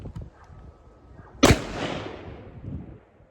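A single loud rifle shot of factory ammunition fired over a chronograph, a sharp crack with a lingering rumbling decay, preceded by a quiet background.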